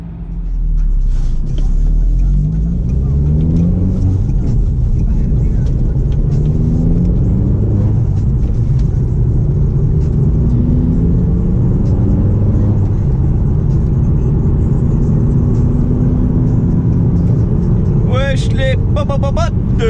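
Audi S3 8L with 210 hp, engine rumbling steadily for the whole stretch, a loud low drone with shifting tones as revs change, someone speaking over it throughout.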